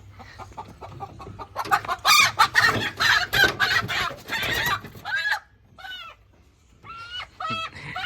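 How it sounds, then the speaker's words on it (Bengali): Kadaknath chickens cluck and squawk loudly in a flurry, wings flapping, then a few shorter clucks follow after a brief lull. "এই মুরগিটা হচ্ছে কড়কনাথ মুরগি"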